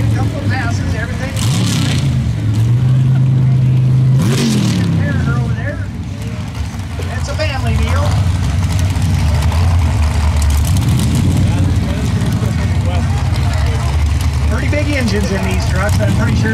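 Modified-class race truck, reportedly running a 632 engine, roars and revs at a dirt drag strip in Orleans, Nebraska, with loud sustained engine drone and rising pitch sweeps, heard under continuous announcer talk.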